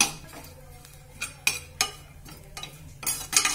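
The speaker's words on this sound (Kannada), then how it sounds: "Fry this dry ಕೊಪ್ರಾ as well until it becomes little reddish." Dry copra is stirred in a pan with a metal spoon, giving intermittent scraping clinks of metal on metal over a faint background hum.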